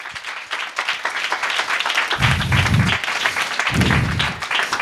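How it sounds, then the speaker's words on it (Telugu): A church congregation clapping during a Sunday sermon, a burst of many hands in steady rapid applause close to the microphone, swelling and continuing, with low thumps beneath. "just give claps to Jesus Christ"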